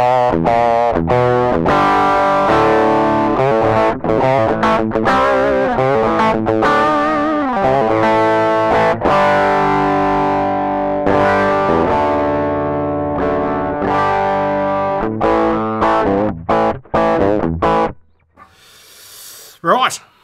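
Loud distorted electric guitar through a $28 Klon Centaur copy overdrive pedal from Wish, chugging chords and ringing notes in a driving rhythm before cutting off near the end, followed by faint noise.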